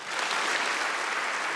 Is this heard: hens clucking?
no